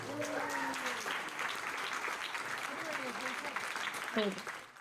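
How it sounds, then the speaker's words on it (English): Audience applause at an environmental stewardship awards ceremony, a steady wash of clapping lasting throughout with voices and chatter mixed in over it. "Let's give them a round of applause."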